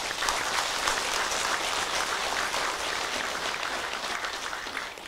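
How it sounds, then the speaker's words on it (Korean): Sustained, dense applause from a large audience at a Buddhist ceremony in Korea, a steady roar of clapping that fills the whole stretch without pause or speech. "원행 큰 스님께 큰 박수를 부탁드립니다."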